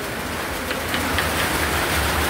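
Steady rain falls outdoors during a break from cooking, a continuous close hiss with a few brief brighter spatters, no voices.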